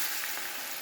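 Green chilli and ginger paste sizzles in hot oil already crackling with mustard seeds and asafoetida, for Gujarati batata vada. A steady, close frying hiss runs without a break through the short stretch, with no talk.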